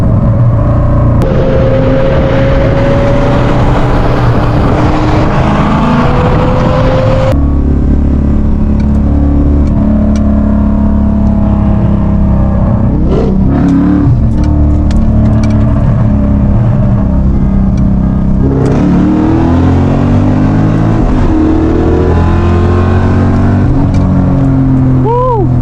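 Hassam's car revving and roaring loud and close in a Southern California street-car scene, the engine note rising and falling in long sustained pulls with strong low rumble throughout.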